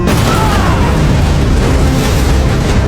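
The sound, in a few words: grenade explosion in animated film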